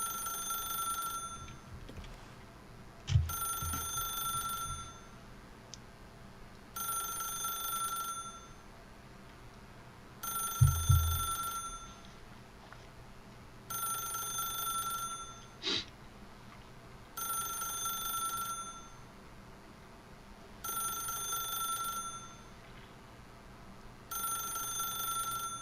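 Telephone ringing in The Stanley Parable video game: repeated bursts of bright ringing at a regular pace of about every three seconds, steady and fairly loud, with a few soft low thumps between rings and no talking.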